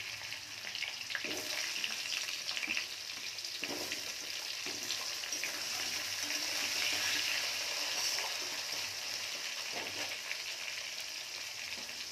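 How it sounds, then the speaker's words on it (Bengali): Radish fries in hot oil with garlic and cumin for a fish curry, giving a continuous soft sizzle and crackle with occasional stirring scrapes, steady and fairly faint throughout, with no talking. "মূলোগুলো একটু ভাজার পরেই আমি আলুটা দেব।"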